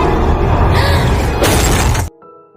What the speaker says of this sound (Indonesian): Sekejap kemudian Mitch muncul dan menghantam kaca mobil.